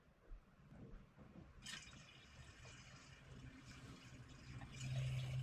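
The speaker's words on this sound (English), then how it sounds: "Now you listen for the gurgle." A hand-pumped Coleman camp lamp, pumped up thirty times, gives a soft, faint liquid gurgle with bubbling and trickling that grows slightly louder toward the end, close and alone.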